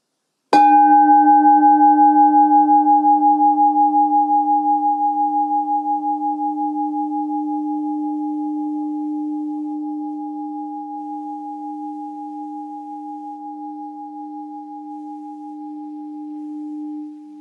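A single struck therapy tone for calming the nervous system rings out clearly and alone, a pure humming sound with a bright attack that slowly fades over many seconds, its layered overtones softly pulsing.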